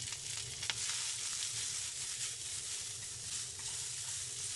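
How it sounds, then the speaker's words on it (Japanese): Green beans frying in a pan of hot sesame oil with garlic, a steady, dense sizzle that holds close and even throughout with no talking. "ごま油大さじ1杯とにんにく、先ほどのにんにくを入れて火にかけて、香りが立ってきたらいんげんを入れます"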